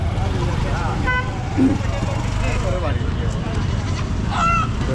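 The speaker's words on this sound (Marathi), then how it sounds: "इकडं पण बरेच कोंबडे आहेत" Scattered clucks and squawks of chickens and roosters, including desi country breeds, rise over busy market bustle at the Saturday Chakan poultry market, with people talking in the background.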